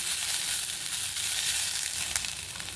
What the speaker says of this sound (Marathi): आता हे पुन्हा एकदा आपण परतून घेऊया